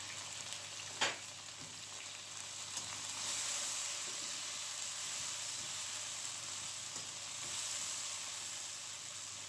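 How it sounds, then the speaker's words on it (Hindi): Chopped tomatoes going into a pan of frying garlic and ginger, a steady, even sizzle with a brief spike near the start, quiet and continuous with no voices. "अब मैं डालूंगी इसमें टमाटर।"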